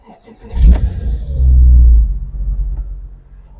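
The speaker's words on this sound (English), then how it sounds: "A lovely sounding flat six with a nice exhaust burble" A 2007 Porsche 987 Boxster S with a manual gearbox and flat-six engine cranks and fires, rising to a loud close rev before settling back into a low, burbling idle.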